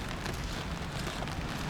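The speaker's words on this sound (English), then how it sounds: "raining all day." Rain falls steadily on an empty street in Nha Trang, Vietnam, on a dreary November night, a dense, even hiss with no voices.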